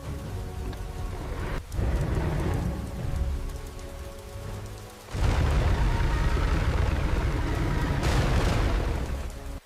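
Heavy rain pours steadily in a prehistoric swamp during a storm, loud and close, with deep rumbling swells like thunder that surge in twice, around the middle and again near the end.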